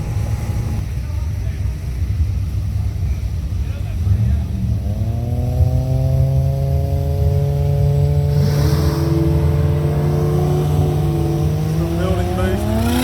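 Sleeper ute doing a burnout, engine rising from a rumble into a climbing rev with strong harmonics, then revving again, loud and close with voices underneath.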